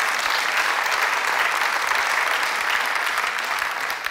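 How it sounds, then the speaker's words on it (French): An audience at a live stage show claps in steady, dense applause, close and fairly loud throughout, with no break. "Applaudissez Corinne parce qu'elle est vraiment..."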